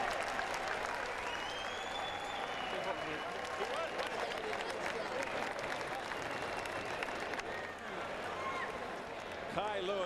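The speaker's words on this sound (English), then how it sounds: "It goes the distance, and the crowd showing its appreciation." Heavy applause and crowd noise filling a heavyweight boxing arena after a bout goes the distance, a continuous roar of clapping and cheering with voices and a commentator mixed underneath.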